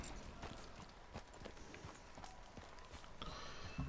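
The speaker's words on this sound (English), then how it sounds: "Aqui o cavalo não pode correr, né? Tem que andar até chegar na parte de fora aqui da aldeia." A horse walking along a village path in the Red Dead Redemption 2 video game, with steady, evenly spaced clip-clop hoofbeats over a constant ambient bed for several seconds, without talk.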